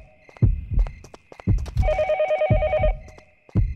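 A telephone rings in a warbling, pulsing burst within the horror game Yomawari: Night Alone, set against loud, steady heartbeat thumps that continue before and after the ring. A voice briefly speaks over it.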